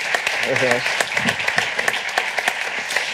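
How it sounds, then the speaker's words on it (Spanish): Audience applause greeting a guest, a biochemist and science writer, at a Spanish-language science talk event, steady clapping running under a voice speaking briefly. "Un fuerte aplauso"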